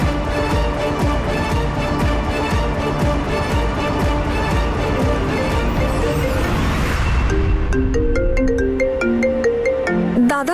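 A mobile phone rings loudly with an incoming call, its melodic ringtone repeating continuously for about ten seconds and shifting into a brighter chiming pattern toward the end, with no one speaking.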